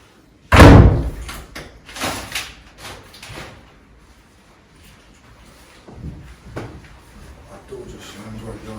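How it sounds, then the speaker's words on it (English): A door slams shut behind someone in a supposedly haunted house during a storm, one sharp loud bang followed by scattered fainter knocks and thumps and quiet room noise. "That door just slammed right behind me."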